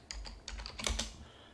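Keys clack on a computer keyboard in a quick uneven burst of a dozen or so taps, close and fairly quiet, ending in a brief pause, with no voices over it.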